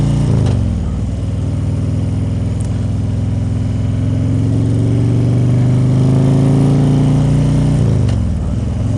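Modified Harley-Davidson Street Glide Custom with extensive motor and suspension work, ridden through traffic, holds a loud, close, continuous engine rumble that swells slightly as it accelerates and eases near the end.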